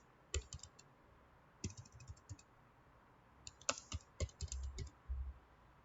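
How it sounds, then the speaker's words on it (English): Typing on a computer keyboard, short clusters of quick light key clicks, a brief burst at first, then a longer run after a pause, close and without talk. "If I type banana bread"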